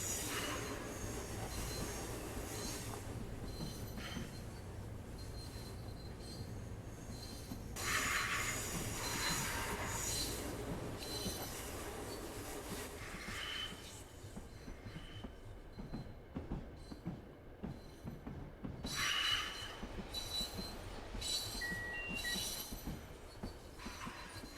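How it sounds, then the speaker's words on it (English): Long Island Rail Road commuter train in Train Sim World 4 running on the New York to Long Beach, Hempstead and Hicksville line: a quiet steady rumble with wheel squeals and occasional clatter, no talking. "Train there waiting to come in."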